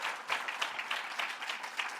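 Brief applause from the crowd at a school district sports awards ceremony, a soft, distant patter of many hands clapping for a couple of seconds.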